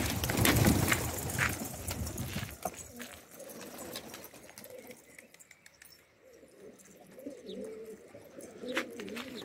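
A red silvertail pigeon and others coo softly in a garden, low murmuring calls rising at the start then fading to quieter intermittent cooing with faint chirps nearby.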